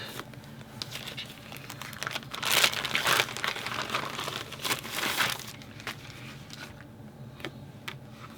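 A pack of Ireland-themed scrapbook papers and stickers is rustled and crinkled up close, with bursts of louder crackling in the middle that fade to lighter handling; no talking.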